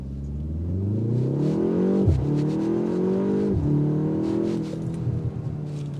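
A 2025 BMW M235i in sport mode accelerates hard, its engine revving loudly and rising through the gears with brief dips at each shift and crackling exhaust pops near the end, close and steady with no talking.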